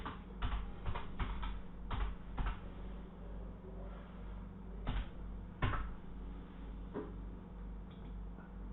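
Keys clatter in uneven bursts of typing on a keyboard, quiet, close and hesitant, with scattered clicks and pauses between clusters.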